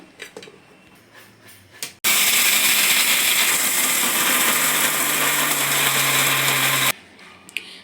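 A kitchen blender grinds almonds into a coarse powder for homemade badam milk powder, a loud steady whirring roar for about five seconds that starts and stops abruptly, with quieter handling clatter before and after.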